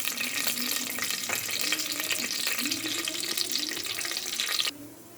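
Cinnamon and cloves hit hot oil for a mutton biryani, giving a steady bright sizzle and crackle that runs evenly and close, then drops off abruptly near the end; faint talk sits underneath.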